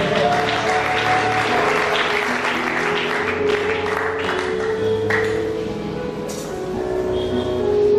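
Congregation at a prophetic church service applauding loudly and steadily, with some cheering and voices mixed in, plus a few bright tones from instruments in the hall.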